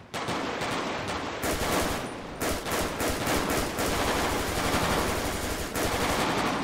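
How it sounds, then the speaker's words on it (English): Gunfire rattles through a police shootout in the video game GTA 5, with loud, rapid automatic bursts broken by short gaps and no talk over it. "Keep shooting, guys."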